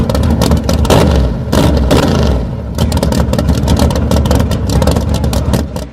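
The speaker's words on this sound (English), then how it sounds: "I'll go ahead and walk the throttle 3 times." Race car engine sitting in neutral and revved hard, the throttle blipped several times in loud close surges, rough clattering roar falling back between blips.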